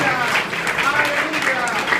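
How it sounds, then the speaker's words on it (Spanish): A church congregation applauds in a Spanish-language service led by a co-pastor, a dense, steady wash of clapping from many hands that fills the room for a couple of seconds without a break. "Den un fuerte aplauso al Señor Jesús"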